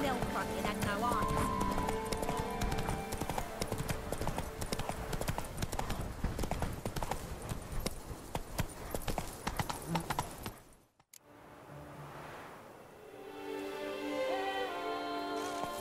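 Roach the horse gallops in The Witcher 3 with rapid, rhythmic hoofbeats, loud and close, under spoken dialogue, then a brief cut and softer hooves resume.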